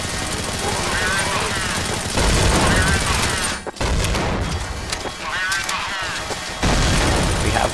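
Dense, loud gunfire from several players in a Halo-themed zombie escape game on Counter-Strike: Source, sustained rapid shots throughout with a brief pause midway, under overlapping voices.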